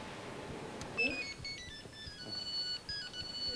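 A mobile phone ringtone chirps in short high melodic tones over faint room noise and rustle, fairly quiet and intermittent across a few seconds.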